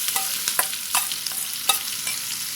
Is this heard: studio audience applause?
no